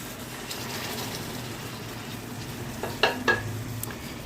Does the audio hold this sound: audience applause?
no